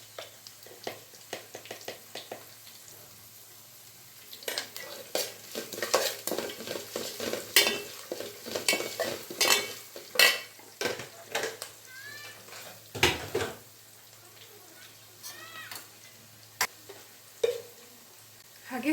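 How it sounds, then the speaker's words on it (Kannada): Onions frying for avalakki chitranna in a pan, with a steady soft sizzle under repeated scraping stirs and clinks of a spoon against the pan, close up; a cat meows a few times nearby. "ಈರುಳ್ಳಿ ಎಲ್ಲ ಚೆನ್ನಾಗಿ ಫ್ರೈ ಆಗಿದೆ ನೋಡ್ಬೋದು."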